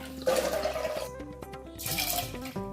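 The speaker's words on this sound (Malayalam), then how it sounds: "കുക്കറിൽ നാല് കപ്പ് വെള്ളം ചേർത്ത് കൊടുക്കാം" Water poured from a cup into a pressure cooker holding moong dal for a Kerala-style parippu curry, a steady splashing rush that fills the short moment, with no talking.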